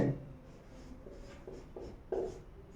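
A pen or chalk writing out a definition during a Hindi lesson gives a few short scratchy strokes in quick bursts, close and faint against a quiet room, with no speech over them.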